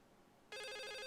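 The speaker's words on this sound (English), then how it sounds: "Oh, the phone's ringing." A telephone starts ringing in The Suicide of Rachel Foster game, a sudden electronic ring that cuts in after a moment of quiet and holds loud and steady to the end.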